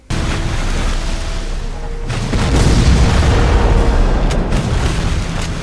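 Video game explosions of cannons and buildings being blasted boom continuously in a heavy rumbling barrage, growing louder and denser after a sharp burst partway through.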